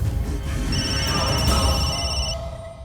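A telephone rings indoors with a bright, repeating electronic tone, steady for about two seconds and then stopping, over a low background hum.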